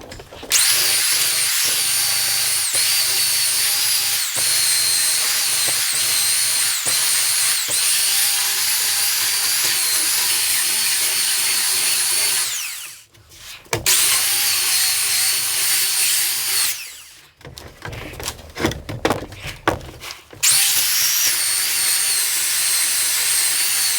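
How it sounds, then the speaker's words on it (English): A loud, continuous power sander whine runs steadily while sanding down excess epoxy up close, with brief pauses and stuttering restarts near the end. "So I finished sanding down the extra epoxy."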